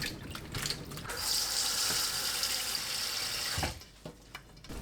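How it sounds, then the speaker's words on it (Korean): Tap water runs steadily into a bowl at a sink, filling it to soak chili peppers, a continuous close splashing stream that stops abruptly near the end. "고추가 잠길 만큼 물 넉넉하게 받고 베이킹소다 1큰술 녹입니다"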